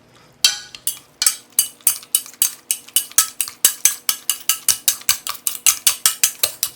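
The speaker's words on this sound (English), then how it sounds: "I'm gonna add some butter to it, and I warmed up some milk and just mash it." Rapid rhythmic clacking of a masher working potatoes with butter and warm milk in a pot, about two dozen sharp strikes in a steady beat, close and loud with no talk.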